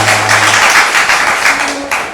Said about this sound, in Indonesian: Boleh kita tepuk tangan dong.